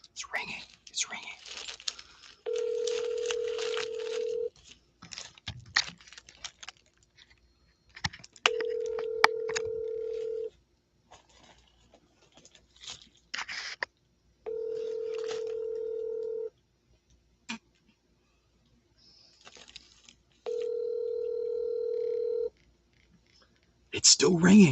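A telephone ringback tone sounds four times, each long steady ring followed by a pause, with soft clicks and whispery noise between rings.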